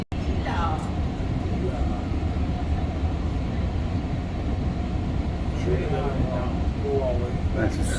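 A SunRail commuter train pulls into DeLand station in Florida, a steady loud rumble of wheels and engine filling the cabin throughout, with faint voices and brief higher squeals rising near the end.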